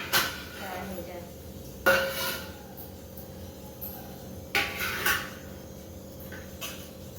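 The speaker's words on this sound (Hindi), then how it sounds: "ये एक तरफ में कढ़ाई चढ़ा रखूँगा, कढ़ाई गर्म होता रहे" A kadhai wok is set on a home kitchen stove and a metal onion-cutting plate is handled, producing a few sharp clanks spaced seconds apart over a quiet background.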